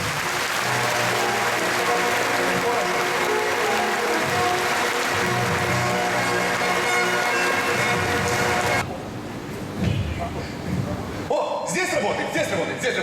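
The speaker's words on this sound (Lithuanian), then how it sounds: "Aplodismentais palydėkime svečius." Loud crowd applause at an arena opening as guests are seen off, a dense continuous roar of clapping for most of the stretch before it drops abruptly to quieter room noise with some clattering.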